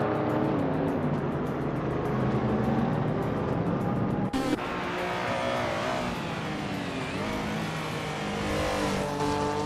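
A pack of race cars led by a 1970 Opel Commodore screams along, engines loud and continuous with shifting pitch, a sharp change midway as another car sweeps by close, no talking.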